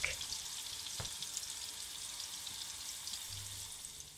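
Tempura vegetables frying in hot oil, a steady fine crackling sizzle that holds evenly throughout, close up, with a brief clink near the start.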